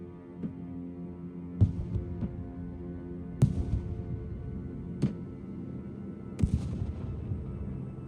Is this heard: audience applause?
no